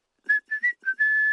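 A referee's whistle from a person sounds as three short toots followed by a longer sustained blast, clear and close with nothing else around it.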